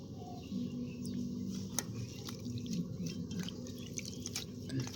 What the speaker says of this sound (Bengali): ভালো করে পরিষ্কার জল দিয়ে ধুয়ে নিচ্ছি